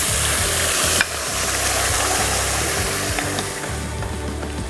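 Tempering spices hiss and crackle in hot oil for besan sabji, a loud continuous sizzle with one sharp burst near the start, no voices.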